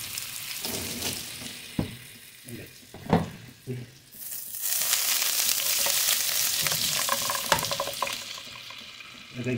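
Chicken for chicken calderita in a pan: a few sharp clatters and stirring knocks at first, then a loud, steady frying sizzle swelling close up and continuing to the end.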